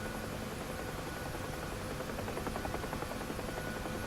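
A UH-1 Huey helicopter in the DCS flight simulator drones steadily with a constant rotor and turbine roar. The sound is continuous and even, with no voices over it.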